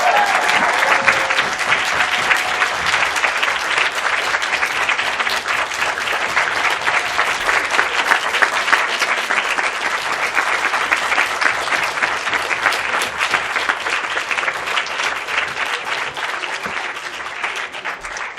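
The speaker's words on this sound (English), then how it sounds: "Can we just give a round of applause to all of our students?" A crowd at a public service award event claps for student speakers in a long, sustained round of applause. The clapping stays dense and steady, with a few faint voices, then thins a little toward the close.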